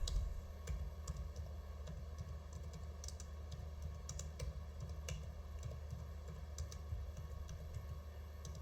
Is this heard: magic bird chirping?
no